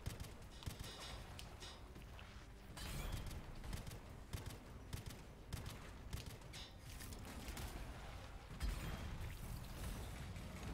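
Dense, rapid gunfire from an overpowered weapon in the game Anthem, sustained bursts of sharp cracks layered over busy battle noise at a low, steady level throughout.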